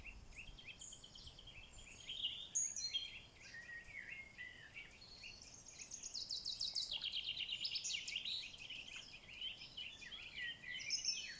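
A bird in open countryside sings bright, varied high-pitched phrases, trilling and chirping almost continuously over a quiet rural background with faint insect hum, moderately near and clear.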